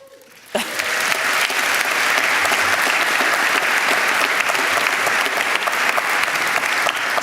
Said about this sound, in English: I want to clap for this